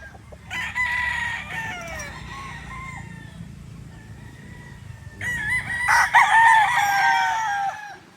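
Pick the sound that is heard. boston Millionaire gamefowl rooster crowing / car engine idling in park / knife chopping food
boston Millionaire gamefowl rooster crowing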